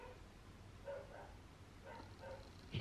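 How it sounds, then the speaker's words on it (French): A neighbours' dog barks in the distance, giving several faint, spaced barks over a steady background hiss. "Et ça, c'est le chien de mes voisins."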